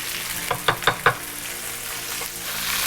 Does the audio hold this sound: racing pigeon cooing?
no